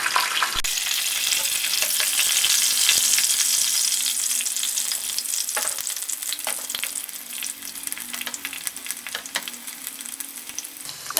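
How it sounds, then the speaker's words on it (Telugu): Cumin and garlic fry in hot oil, giving a loud, continuous sizzle and crackle close by, broken by occasional stirring clinks and scrapes. "జీలకర్ర వేగిన తర్వాత వెల్లిపాయలు వేసుకోవాలి"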